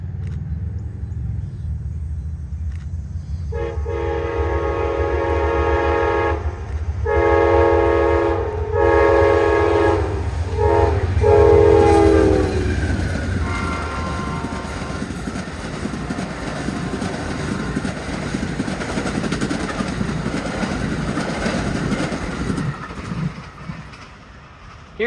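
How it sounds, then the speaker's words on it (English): Amtrak Lake Shore Limited No. 49, led by P42 locomotive 103, sounds loud sustained horn blasts as it approaches, then rolls past with a steady heavy rumble of wheels and cars. "Off in the distance, I hear the Amtrak Lakeshore Limited number 49. Here it comes with P42 103 in front."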